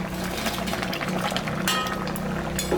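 Rui and mrigel fish cook in a mustard sauce, giving a steady close simmering bubble and sizzle with faint crackles throughout, and no talking.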